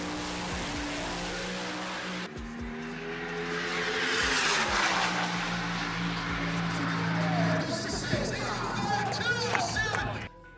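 A drag racing run by a legendary red Camaro street car, its engine droning loud and steady as it accelerates, with tire noise, crowd sound and an announcer talking over it.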